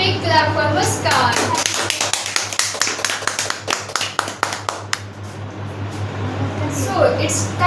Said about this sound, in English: A big clap for Muskan.